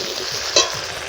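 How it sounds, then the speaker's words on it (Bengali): Cut potatoes fry in a pan for a fish curry, giving a brief steady hiss of sizzling oil with one sharp clink partway through, close and without talk. "এবার কেটে রাখা আলু ও ঝরালু দিয়ে দিচ্ছি। এইভাবে কিছুক্ষণ আমি ভাজতে থাকবো।"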